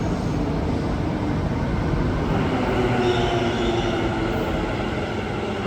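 A metro train in Ahmedabad rumbles steadily throughout, a loud, continuous roll of wheels and motor close by, with no voices.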